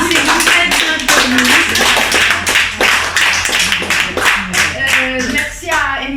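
Audience at an amateur storytelling show claps steadily for several seconds, dense and close, with a few voices calling out over the applause.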